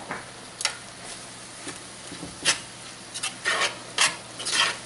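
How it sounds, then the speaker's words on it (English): A spoon works through creamed spinach in a pan, giving soft irregular scrapes and wet stirring strokes, some louder and clustered toward the end, over a faint low background hum. "we're going to mix it all up together here"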